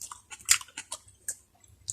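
Close, wet chewing of a mouthful of Filipino breakfast food, with a few sharper crunchy bites spaced irregularly across two seconds.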